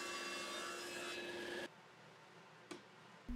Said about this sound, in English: To cut the flared bevels, I set my table saw to an arbitrary angle that I thought looked nice.